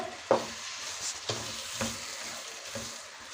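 Garlic and pepper are stirred in a hot pan with a soft, steady sizzle, and four distinct scraping strokes sound close by.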